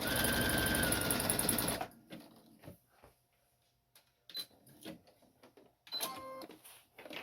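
A sewing machine runs a zigzag seam on a ruffled steampunk pirate shirt, a loud rapid whirring burst of stitching for under two seconds, then scattered soft clicks and handling noises.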